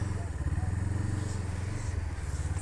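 Motorcycle engine idling while arriving to park, a steady low rhythmic throb with a constant pulsing beat, close and continuous throughout.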